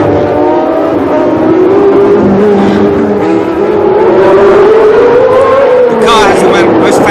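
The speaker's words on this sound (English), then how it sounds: "V12 engine, it literally screams, this engine." V12 race car engine screaming at the 1976 Long Beach Grand Prix, a loud high-pitched wail that rises and falls through gear changes, heard continuously under a commentator's voice.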